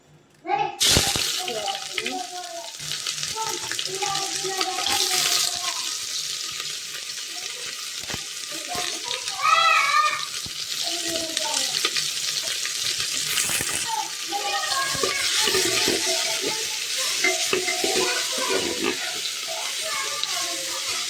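Oil sizzles and crackles steadily in a pressure cooker while pulao is being cooked, with occasional stirring clatter and a louder burst midway; a person talks over the frying throughout.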